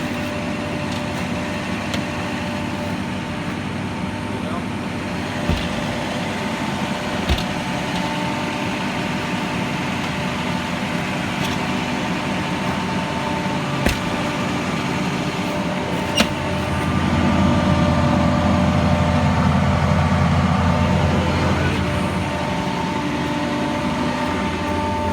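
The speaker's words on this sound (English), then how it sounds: "we can hear the pump working" A pump runs on a 2007 Ford F550 with a cracked tank, giving a steady, continuous mechanical hum and drone that holds level throughout, thickening slightly in its low rumble partway through, with a few faint clicks and no talk.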